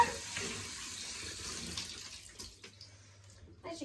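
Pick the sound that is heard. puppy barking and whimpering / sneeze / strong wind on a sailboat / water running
water running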